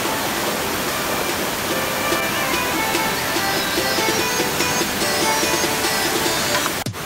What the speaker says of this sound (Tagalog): And here's our 11th falls.